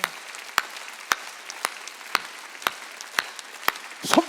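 Church congregation clapping during a Wednesday worship service, heard as sharp, evenly spaced single claps about every half second, fairly close, with a denser burst of clapping at the end and a faint background hum.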